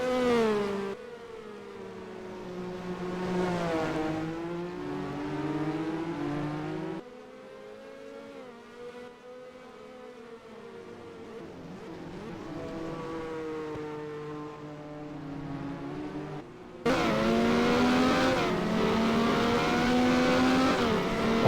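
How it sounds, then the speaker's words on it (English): Formula 1 Red Bull car with a Honda engine in the NASCAR Racing 2003 video game, its engine whining loudly and continuously as it revs up and down through the gears, with a louder burst near the end. "this man Verstappen is in the lead and pushing that car to the limit"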